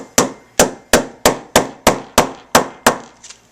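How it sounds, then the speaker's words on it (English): Nine sharp hammer blows land at a steady, even rhythm, loud and close, each ringing briefly before the next strike. "make a little bit of noise and hammer that"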